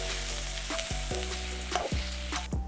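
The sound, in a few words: onions and mushrooms frying in pan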